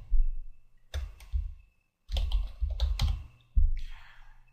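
Bursts of computer keyboard typing as an app name is entered, quick clustered keystrokes in several short runs with brief pauses between, close and fairly loud.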